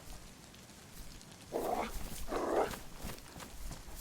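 A big dog in the DayZ survival game gives two loud, close barks or growls in quick succession, each lasting about a third of a second, against a quiet background.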